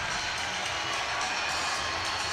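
A basketball crowd at a 5A boys state championship game between Jonesboro and Maumelle roars on its feet, a steady, dense wall of cheering heard from a distance without any standout voices.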